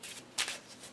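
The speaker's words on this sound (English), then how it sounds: "civilization cards are shuffled and set next to the board" A deck of civilization cards from the board game Stone Age being shuffled by hand, a brief riffle of papery flutters with one louder burst in the middle, fairly close and quiet.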